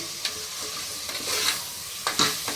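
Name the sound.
stirring turmeric into mutton kheema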